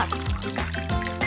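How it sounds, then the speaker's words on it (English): Water pours into a coffee machine's water box in a cartoon cooking game, a short gurgling trickle with bubbly tones over a light musical background. "Simply pour some water into the box."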